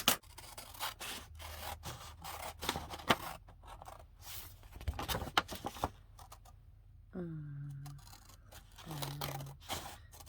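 Paper being cut for a handmade junk journal, with repeated rubbing and scraping strokes through the first six seconds, close and fairly quiet, followed by brief voiced murmurs near the end.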